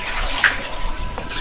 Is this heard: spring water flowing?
yes